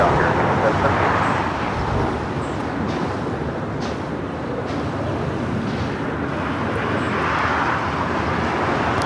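Air Canada airliner taking off on runway 25 right at LAX, a steady broad jet roar holding strong throughout, with radio voices heard over it.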